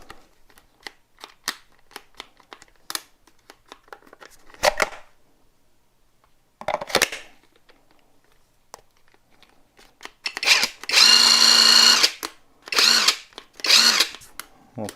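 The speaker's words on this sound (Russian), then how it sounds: "собираю и проверим после сборки, работает ли наш гайковерт" A LYUWO LW-LDD60 cordless impact wrench, freshly reassembled, fires in sharp close bursts: a long whirring run of about a second and a half, then two shorter pulses, after scattered handling clicks and short taps.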